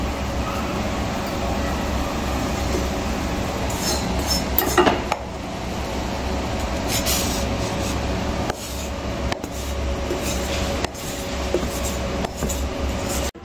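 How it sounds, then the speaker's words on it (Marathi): Mixer grinder churning a cooled pea and potato masala filling, a loud, steady grinding whir with rattling clinks from the jar, pausing briefly a few times before cutting off at the end. "आपण हे पण आता मिक्सरमधनं काढून घेऊ."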